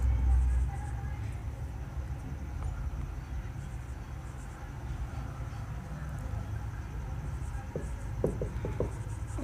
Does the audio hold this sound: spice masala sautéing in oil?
no